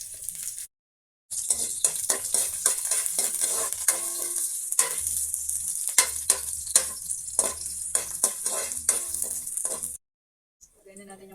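Garlic and onion sautéing with meat in a pan for Filipino laing sizzle steadily, broken by repeated close stirring scrapes and clinks of a utensil, with a brief pause near the start.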